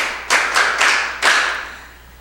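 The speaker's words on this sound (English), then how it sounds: "A round of applause for you." A few loud, close claps ring out at a school quiz competition, four sharp bursts with brief gaps, decaying into quiet room tone without talk.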